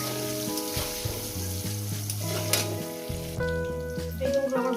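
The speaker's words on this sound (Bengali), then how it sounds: "বেগুনগুলো একটু ভেজে তুলে নেবো বন্ধুরা, যাতে বেগুনগুলো গলে নেব।" Eggplant pieces frying in oil in a pan, a steady close sizzle with occasional stirring, alone under a soft background of music.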